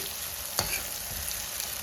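Tomatoes softening in a pan of soya kheema curry, giving a steady low sizzle with one brief stirring scrape partway through.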